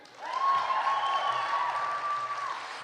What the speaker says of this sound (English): let's also give a huge round of applause for everyone that's working hard tonight